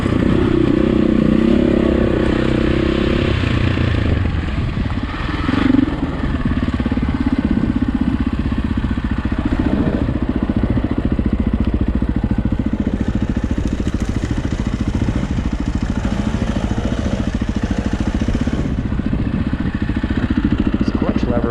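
A 2004 KTM 525 EXC dirt bike engine drones loud and steady while being ridden, with a strong low rumble and mechanical clatter holding throughout.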